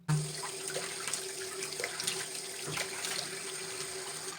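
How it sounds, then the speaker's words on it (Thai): Tap water runs steadily into a sink during face washing with cleansing oil, a constant close splashing stream with small shifts as hands move under it, no talking. "เดี๋ยวเรามาล้างกันเนาะ"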